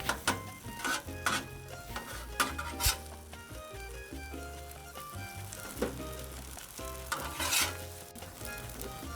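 Mac and cheese frying on a 22-inch Blackstone griddle sizzles and crackles close by, with metal spatula scrapes and taps as pieces are flipped.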